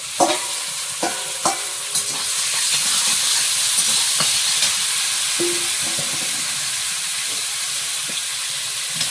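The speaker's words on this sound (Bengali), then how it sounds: "চিংড়ি বেশি ভাজলাম না, ফুলকপির সঙ্গেই ভাজাটা হয়ে যাবে।" Prawns sizzle loudly in a hot pan while a utensil scrapes and stirs them, with a few sharp clinks at the start and then a steady, continuous frying hiss.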